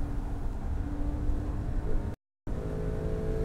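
A Porsche Carrera S drives at speed, its engine a continuous moderately loud drone mixed with road and wind noise, cut by one brief moment of complete silence.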